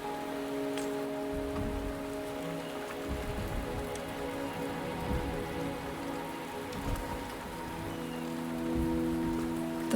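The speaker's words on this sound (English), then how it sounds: "The rain is subsiding, and the sky will soon clear." Steady rain falls in the video game Wuthering Waves, a dense continuous patter on surfaces with low rumbling underneath, even and fairly loud throughout with no voices.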